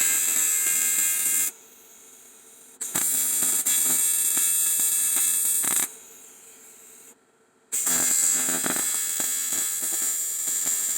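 Cast aluminium on an AOVO electric scooter upright is TIG welded in bursts, each giving a loud steady buzz with a hum. The buzzes stop twice, leaving short quiet gaps.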